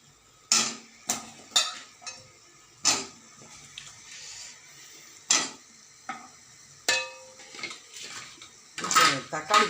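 Pieces of drumstick (moringa pods) clatter into a pan of masala gravy with several sharp clinks and knocks spaced apart, close by, between stretches of talk.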